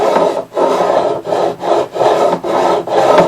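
A fret beveling file rasps back and forth across guitar fret ends, wood and metal scraping in six steady strokes with brief pauses between, close and loud.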